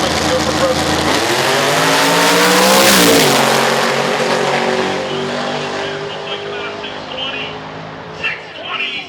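A nitrous-fed drag race car making a quarter-mile run roars loud and close, its engine pitch climbing hard under a commentator's voice, then the sound recedes into a fading drone with scattered noise at the end.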